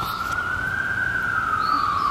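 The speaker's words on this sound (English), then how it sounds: "You hear the ambulance or fire truck?" A wailing emergency siren rises and slowly falls in a long, steady sweep, fairly loud and close, with faint background noise.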